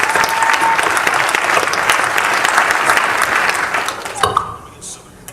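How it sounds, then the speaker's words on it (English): Warm, loud applause fills the room at a mayoral candidate forum as a panelist is welcomed, a dense burst of clapping that carries on strongly before tapering off near the end. "please give her a warm round of applause"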